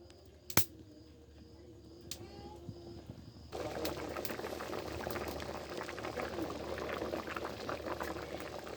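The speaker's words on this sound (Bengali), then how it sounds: "ফুটে উঠেছে।" A pot of crab and taro curry (kochu jhal) comes to a boil, giving a steady bubbling burble close by that grows louder and busier partway through after a quieter, sparse start.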